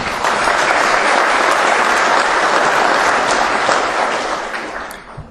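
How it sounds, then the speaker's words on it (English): A conference audience at the Global Conference on Sustainable Beef in São Paulo, Brazil gives a loud, dense round of applause that holds steady, then tapers off at the end. "Let's have a round of applause."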